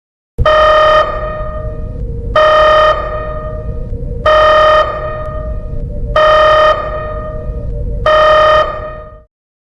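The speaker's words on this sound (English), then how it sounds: "Activate the alarm." A harsh, buzzing emergency alarm sounds in a lab during a grey goo spill scenario, blaring in five long, evenly spaced blasts of about a second each over a steady low rumble, loud and alone.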